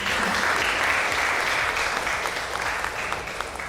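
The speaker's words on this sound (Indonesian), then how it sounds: "Oke, aplaus dulu." A classroom audience claps in a dense, steady burst of applause, loud and sustained from start to finish and tapering slightly toward the end.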